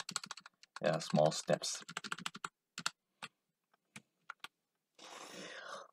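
Computer keyboard keys are pressed in a scattered run of crisp clicks, close and fairly quiet, some overlapping a man's brief speech and others sounding alone between pauses, followed by a short burst of softer rustling.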